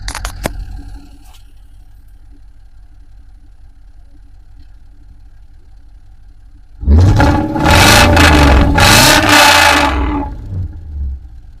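A car with an automatic gearbox and a 307 engine sits at a quiet idle hum, then roars into a loud, rising rev that holds and surges for several seconds before easing off.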